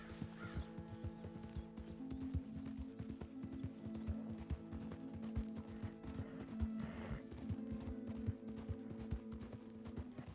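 Rhythmic hoof clip-clops of a horse walking in Red Dead Redemption 2, with mechanical clicks and steady tones underneath at low volume, no talking.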